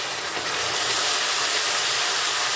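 Onion paste hits hot oil in a pan for Bengali rui fish kalia and sizzles loudly, a dense, steady hiss with no talking.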